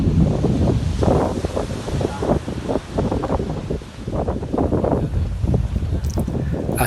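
Strong wind roars across the microphone while a Laser dinghy sails through rough, choppy sea, a loud continuous gusting rush with churning water beneath.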